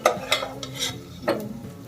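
Chopped onion being sautéed and stirred in a pan, a close sizzle with a few sharp scraping stirs of the spoon, steady frying underneath.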